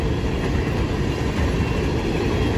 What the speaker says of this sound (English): The westbound empty BNSF Powder River Basin coal train coming past the uh, Metra Amtrak LaGrange Road Station